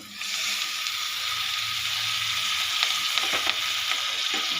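Ponnaganti greens hit a hot pan for a tomato curry and fry with a steady, close hiss and sizzle, with a few faint stirring clicks near the end and no talking.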